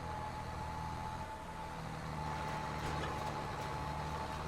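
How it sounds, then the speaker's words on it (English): A tractor engine drones steadily while planting potatoes in a farming game, a low, constant idle-like rumble with a faint whine, near and unbroken throughout. "Tractor seems to be doing a pretty good job,"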